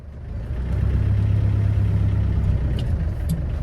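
A 1996 Land Rover Defender 110 with a 300Tdi diesel engine runs with a steady low rumble, close and fairly loud, holding even before easing slightly at the end.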